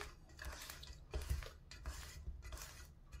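Apple waffle batter stirred with a ladle in a pot, soft close scraping and clinking of metal against the pot in slow uneven strokes, fairly quiet.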